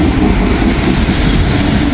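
Heavy, continuous rumbling of an intermodal freight train rolling past nearby, loud and even, with faint wheel clatter on the rails.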